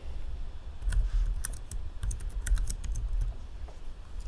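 Typing on a computer keyboard while setting up a digital PDF layout in Adobe InDesign: a quick, irregular run of close, crisp key clicks with short pauses over a low background hum, no voices.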